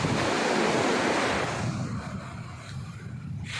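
Ocean waves rushing onto a shore with dark sand and rocks, a loud broad wash that recedes halfway through into quieter surf, with wind buffeting the microphone.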